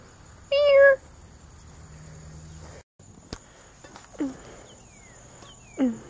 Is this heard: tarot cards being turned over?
no